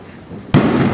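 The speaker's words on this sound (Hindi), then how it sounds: "टाइटेनियम 72 बाबा सिंधु पटाखा का नाम है" A Titania 72 multishot firework cake, made by Sri Kaliswari Fireworks, bursts off with a sudden loud blast after a quiet moment, followed by a sustained crackling rush.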